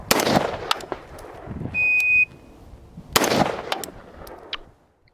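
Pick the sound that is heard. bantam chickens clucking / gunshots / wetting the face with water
gunshots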